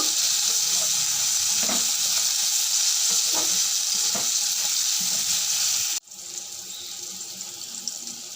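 Loud, steady sizzling of vegetables and eggplant frying in a pan, with scraping stirs at intervals; the sizzle drops abruptly partway through and continues more quietly.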